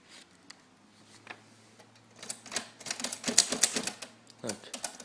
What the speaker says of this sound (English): Old typewriter.